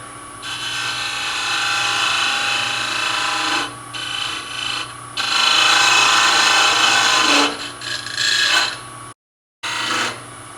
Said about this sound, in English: go to a parting tool, and I'm going to cut it just a little larger than that diameter